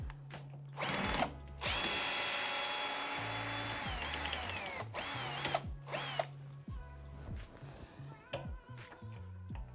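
A power drill backs out the two top cover screws on a Fisher & Paykel tumble condenser dryer, with several short whirring bursts separated by pauses and clicks of handling.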